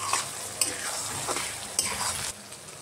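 Meat with coriander, cumin and spices stirred and frying in a pan, a soft continuous sizzle broken by a few sharp clinks and scrapes of a utensil, fairly quiet with no talking.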